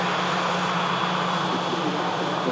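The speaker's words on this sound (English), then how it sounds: "So the TUI is going to go over there in front of the shuttle service of British Airways." A TUI airliner taxis at an airport, giving off a steady, continuous jet engine whine and rumble at moderate distance with no breaks.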